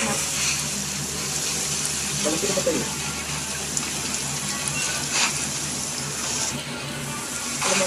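Steady rain pours in the video game Genshin Impact, a dense, continuous hiss of falling water with spattering drops, while a voice talks briefly over it.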